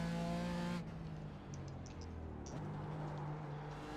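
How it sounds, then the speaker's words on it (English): Race car engine in the iRacing video game buzzing against the rev limiter in 2nd gear, a loud harmonic drone that cuts out, then returns with tire noise during a slide, no talking. "Nice little victory slide up on the rev limiter from 2nd gear"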